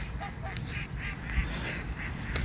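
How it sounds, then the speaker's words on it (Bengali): A large flock of ducks on a Minnesota lake, with swans nearby, quacks in overlapping calls at mid distance over soft outdoor background noise. "মনে হয় যে কোনো একটা হাঁসের খামার।"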